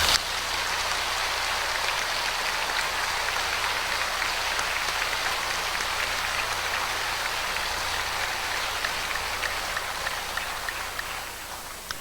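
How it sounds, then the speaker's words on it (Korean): A church congregation at a Gwangju Bethel Church mission conference applauds in a long, even, hiss-like wash of many hands clapping, steady and undiminished for over ten seconds with no speech. "우리 감사의 마음을 박수로 표시해 드리십시오"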